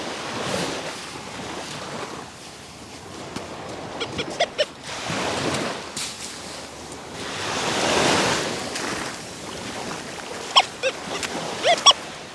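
Ocean surf waves wash and roll onto a beach in repeated swells under steady wind noise, with a few brief electronic beeps nearby.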